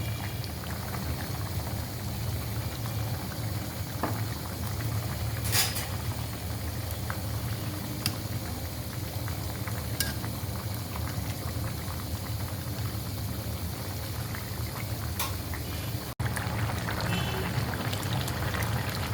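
Rohu fish and tomato curry simmers down in a pan, a steady close bubbling and low rumbling boil throughout with a few faint clinks over it.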